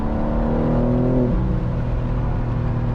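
A high-performance car engine revs hard under acceleration, with a loud, sustained roar that climbs in pitch, drops briefly as the transmission shifts, then pulls on strongly, heard close and alone.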